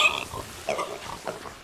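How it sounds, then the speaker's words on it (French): A pig oinks in the video game Sea of Thieves, giving a few short grunts over about a second and a half at moderate, steady loudness. "Bon bah merde, un cochon c'est un cochon."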